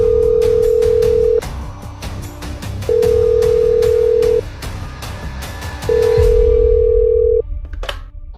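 An old telephone rings in a radio drama, three long steady electronic rings separated by pauses, loud and close, with a faint rumble under them and no talking.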